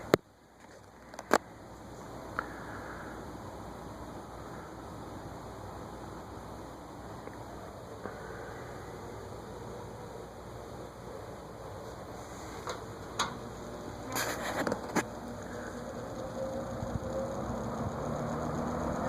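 A GE 20-inch box fan with plastic blades runs at its original factory speed, giving a steady whooshing hum with a faint irregular rattle and a few sharp ticks and clicks scattered through it.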